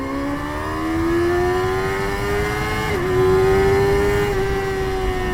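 A Kawasaki ZX6R sport bike engine revs hard, a loud, close, steady rising whine that climbs in pitch, dips briefly around the gear change, and pushes on again with no talking.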